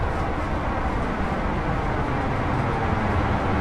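Two HST diesel engines rumble together in Train Sim World 5, a continuous, dense low drone that stays steady throughout with no talk.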